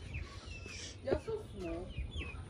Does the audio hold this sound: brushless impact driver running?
no